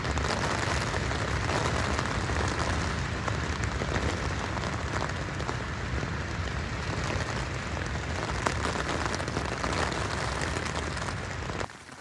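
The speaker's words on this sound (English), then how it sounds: "I cannot believe that it's still raining. It sounds heavier than yesterday as well." Heavy rain drums steadily on a tent in the Scottish wilderness, a dense, continuous patter of close drops that stays loud for the whole stretch with no voices.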